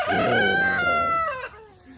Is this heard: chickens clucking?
yes